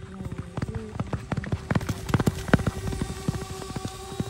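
Horse hooves clip-clop in a quick, uneven run at a village tent pegging event in Pakistan, loud and close with sharp repeated impacts and faint background voices.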